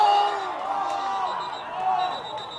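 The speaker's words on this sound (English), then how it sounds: "The crowd goes wild" A crowd at a US Quidditch Cup match between the L.A. Gambits and Texas A&M cheers and whoops in a distant, moderate roar that swells and eases, while a commentator talks over it.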